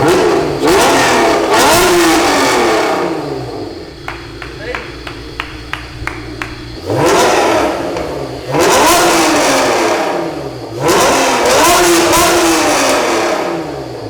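Rebuilt junkyard Honda NSX engine warming up, with several loud rising revs that fall back to a lower idle between them, a throaty exhaust close by, with people talking over it.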